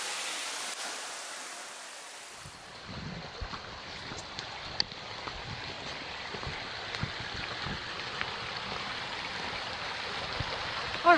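Flowing water at a creek spot, a steady broadband rushing and babbling that fills the clip after a quieter opening, with small splashes and clicks scattered through it.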